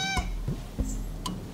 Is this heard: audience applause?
no